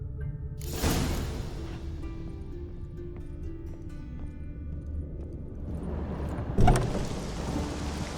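Rain falls steadily in The Witcher 3, with a deep thunder rumble early on and a sharper, louder crack near the end, all fairly distant and without speech.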